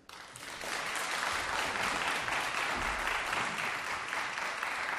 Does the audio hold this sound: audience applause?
yes